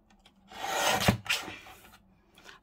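A paper trimmer cuts through a hardback book cover in one brief scraping, rasping pass with a short rub, close and moderately loud in a quiet room.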